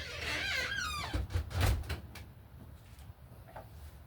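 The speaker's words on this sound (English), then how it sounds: "I'll close the door because it's in my way a little bit" A door squeaks as it swings, with a drawn-out creak and then a dull thump as it shuts, followed by faint room noise.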